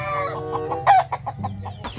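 A chicken clucks in a quick series of short, sharp calls, close and fairly loud, with a steady low hum underneath.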